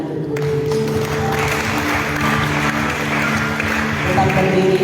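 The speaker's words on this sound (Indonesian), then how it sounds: "Tepuk tangan untuk Tuhan." A church congregation claps during a worship service, dense and sustained applause mixed with music and crowd murmur, loud and continuous throughout.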